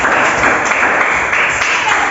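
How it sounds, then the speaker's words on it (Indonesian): Students in an Indonesian classroom applaud a group after its presentation, a dense, loud, continuous patter of many hands clapping at once. "Tepuk tangan dulu untuk kelompok."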